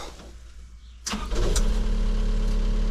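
A John Deere 80C mid-sized excavator's diesel engine cranks briefly, catches with a sharp burst, then settles into a loud, steady close idle.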